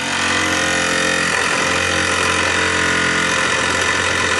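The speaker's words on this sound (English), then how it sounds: "The old Mamod disc crank." A Mamod Minor 1 disc crank toy steam engine runs steadily, powering a small steam workshop, with a continuous dense buzzing mechanical drone and fine vibration, loud and close, with no voices.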